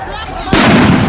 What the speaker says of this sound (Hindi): गोलियां चलने लगती हैं